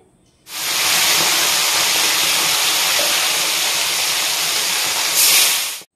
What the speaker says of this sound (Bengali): একে একে বাটা মাছগুলোকে ভেজে নিতে হবে।